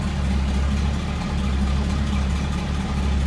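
A 1965 Ford Mustang coupe, a C-code car running 20W-50 high-zinc oil, idles with a steady, even low rumble, close and constant throughout.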